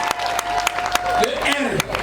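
A crowd at a customary wedding ceremony applauds in a quick, dense burst of clapping, fairly loud and close, with a voice speaking over it.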